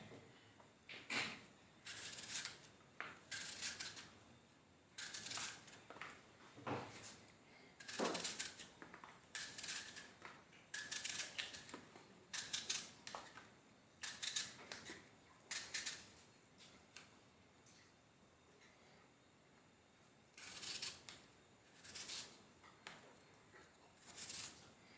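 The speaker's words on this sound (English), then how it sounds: "Now I go into cutting." Pink Lady apples being sliced with a knife, with faint, close, crisp cutting and scraping strokes coming in irregular clusters over a quiet background and no talking.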